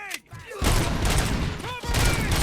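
Gunfire rattles in a Robocop game, a loud, continuous barrage of shots with short breaks, mixed with shouted voices and whistling tonal effects.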